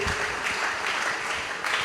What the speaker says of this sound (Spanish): Las palmas solamente hacen ruido.